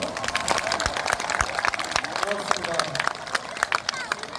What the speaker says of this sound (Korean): 우리 다 같이 박수 한번 보내드릴까요?